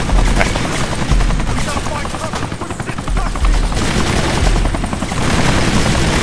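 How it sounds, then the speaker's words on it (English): In the Kane & Lynch: Dead Men video game, a police helicopter's loud, constant rotor roar mixes with dense bursts of gunfire. Voices may also be present under the noise. "trying to shoot down a police helicopter with your guns"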